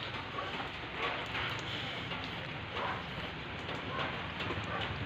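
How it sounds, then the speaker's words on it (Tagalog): Sudden rain falls steadily on a house construction site where the concrete floor of the first storey is still wet, a dense close hiss with scattered louder patters and no clear talk. "Ay nako, biglang umulan."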